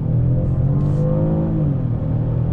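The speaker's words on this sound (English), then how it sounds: "let's check out the power on this V6 rolling out on throttle." A 2019 Chevy Impala V6 accelerating on throttle with a six-speed transmission, heard from inside as a loud, steady engine drone that builds gradually and stays low and smooth throughout.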